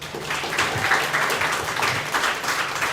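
A crowd applauds two girls' soccer players at a team gathering, with dense, steady clapping that holds at an even level for the whole moment.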